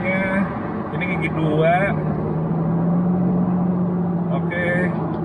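Toyota Land Cruiser 105 engine running steadily as gears are shifted down, a low constant hum from inside the cabin with a person talking over it throughout.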